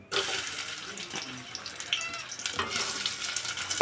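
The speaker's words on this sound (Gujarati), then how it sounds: "આપણે ડુંગળી નાખી દીધી છે ફ્રાય કરવા." Chopped onions sizzle and crackle steadily in hot oil in a pan for Gujarati-style Bombil (Bombay duck) curry, a dense continuous frying hiss close to the microphone with occasional stirring.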